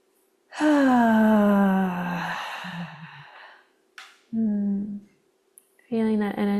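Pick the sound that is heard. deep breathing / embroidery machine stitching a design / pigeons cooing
deep breathing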